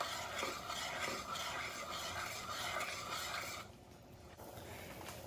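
A spoon steadily stirs a pot of broth with red pepper flakes and onion soup mix, giving a continuous scraping, swishing rasp that stops abruptly for a quieter final stretch.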